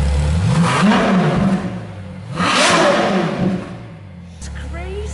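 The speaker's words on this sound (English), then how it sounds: "we've just been warming up the engine so we can hear it" A La Ferrari Aperta engine is revved after warming up, rising in two loud surges with a fall between them and an idle at the end, while people talk close by.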